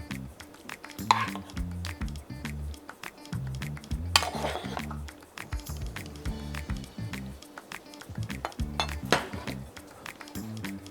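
A spoon clinks and scrapes against a dish as chilled Quorn veggie-piece pie filling goes into an oven-proof dish, with repeated close, sharp taps and a brief stirring scrape, and no voices.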